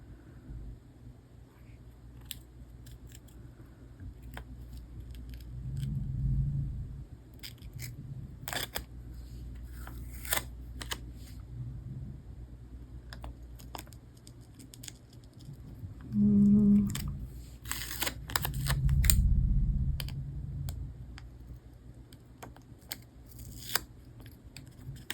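Scissors snip through paper around a floral design for an affirmation journal, a close, quiet run of short crisp cuts scattered over the stretch, with a few heavier rustling handling bursts between them.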